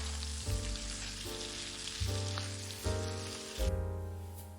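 Chicken and rabbit pieces sizzle in a pan for a Spanish rice dish, a steady close frying hiss broken by a few louder bursts as the meat is stirred, with no voices.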